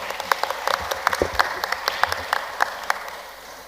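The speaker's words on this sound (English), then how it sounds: "Just another round of applause for Shahida." An audience at a Central Hounslow community forum gives a round of applause, with many hands clapping in a lively, even patter that sounds mid-distance in a hall.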